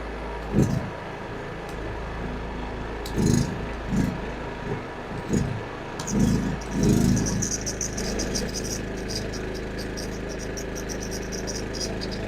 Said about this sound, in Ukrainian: вмикаємо зварювальний апарат, а також тумблер на генератор